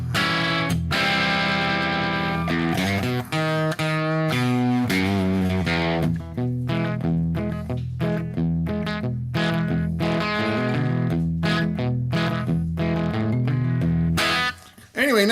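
A 1955 Gibson Les Paul Special electric guitar in perfect condition plays a lively run of distorted, overdriven notes and chords with echo and reverb, loud and continuous throughout.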